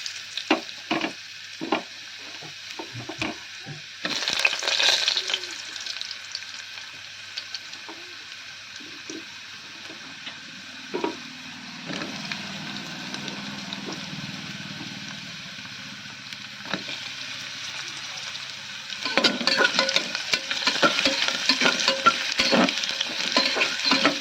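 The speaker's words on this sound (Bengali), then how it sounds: "আলুগুলো কিন্তু এখন আমি ফ্রাই করে নেবো।" Potatoes with a bay leaf frying in oil inside a pressure cooker produce a continuous sizzle, with bursts of stirring and metal scrapes at the start and swelling louder frying toward the end, no voices.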